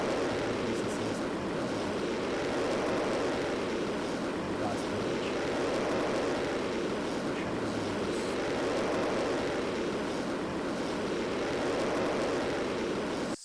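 Rocket engine firing in the game Kerbal Space Program, a constant loud roaring drone that holds steady throughout, with no speech over it.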